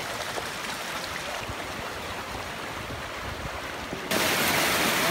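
Overflow water runs along a forest track in December, a continuous broadband rushing and splashing that swells noticeably louder near the end, with no voices.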